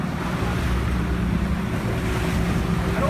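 A motorboat escorting an outrigger canoe on the open ocean, its low engine rumble blending with steady wind buffeting and the wash of water, constant and close throughout.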